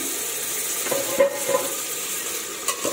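Chicken pieces hit a pan of lightly fried spice paste for chicken pulao, making a steady close sizzle with a couple of sharp scraping and clinking stirring sounds over a few seconds.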